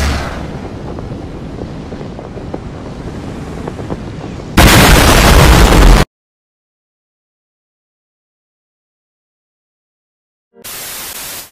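Guided missile explosion in a Super Mario Logan-style video game: sustained noisy rumble, then a sudden loud broadband blast lasting about a second and a half, followed by silence and another harsh burst near the end.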